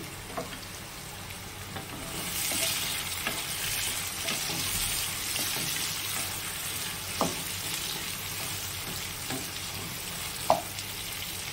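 Onions fry gently in a covered pan while softening for a jackfruit and prawn curry, making a steady, moderately quiet sizzle with a few sharp clicks and pops over nearly twelve seconds.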